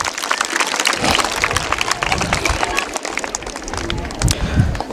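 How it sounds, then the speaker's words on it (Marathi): An audience of students at a Shivaji Jayanti quiz event claps in a dense, lively burst of applause that fills the whole stretch, with crowd noise mixed in. "जोरदार टाळ्या याच्यासाठी."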